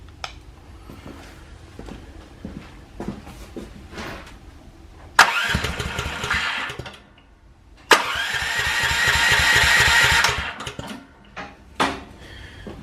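Small engine cranked over twice during a spark plug test with a spark tester, each burst a loud rapid churning whir near the mic, separated by quiet clicks and handling noise.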